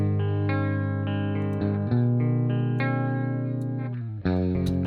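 Electric guitar played through a heavily distorted amp model channel, loud sustained chords with thick gain and chorus-like shimmer, struck in a rhythmic sequence and ringing out.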